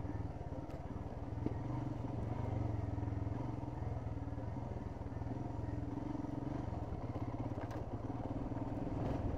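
A motorcycle cruises steadily on a ride toward Sakleshpura, its engine droning with a low, even hum and faint rattles throughout.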